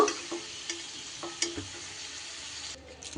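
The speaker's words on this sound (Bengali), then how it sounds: "আলু কিন্তু আমার খুব সুন্দর করে লাল লাল করে আমার ভাজা হয়ে গেছে" Potatoes fry in oil in a pan for a mutton curry, a continuous close sizzle broken by a few light knocks and stirring scrapes, fading slightly near the end with no voices.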